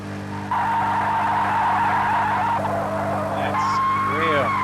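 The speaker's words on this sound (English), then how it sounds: "Got enough time just to spin the car around in the wet." A race car spins around on a wet track at Bathurst Mount Panorama in Project CARS 2, with a loud steady engine drone and rising whine, then rapid wavering squeals as the car rotates. A voice talks over it.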